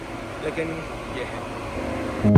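Steady broadband roar of a cargo ship's air handling unit and air conditioning fills the space, a constant mechanical hum under someone talking close by, with a louder thump at the very end.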